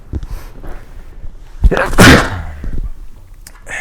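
One abrupt sneeze stands out against a busy, noisy background, loud and close, with scattered rustling before and after.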